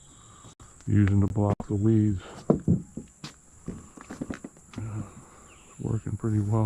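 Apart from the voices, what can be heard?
crickets chirping in a garden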